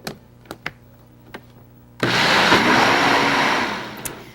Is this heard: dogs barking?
no